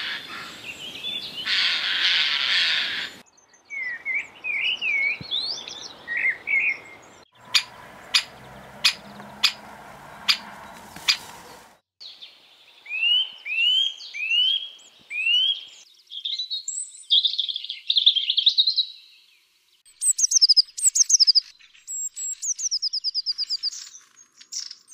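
Woodland birds call in turn: bursts of rapid chirps and tweets, a run of sharp repeated notes, then clusters of short whistled calls and high trills, fairly close and clear with quiet gaps between.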